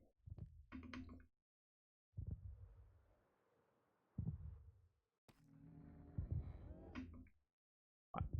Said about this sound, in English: The heartbeat is loud.